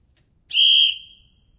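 A single loud whistle blast, blown like a train conductor's signal, sounds shrill and sustained for about half a second and then trails off in a quiet room.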